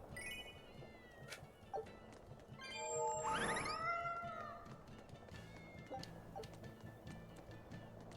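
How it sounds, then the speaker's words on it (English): Cats meowing in the video game Tales of Berseria: several quiet meows, one longer drawn-out cry in the middle, set against soft ambient game background. "Why are there so many cats?"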